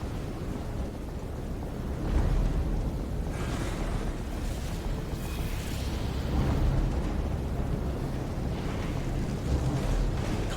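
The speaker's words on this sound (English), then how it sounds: "he's doing a spirit bomb on us" A spirit bomb attack detonates in Final Fantasy XIV as a sustained, roaring, windy rumble with heavier surges partway through. It stays loud and steady throughout, with no speech.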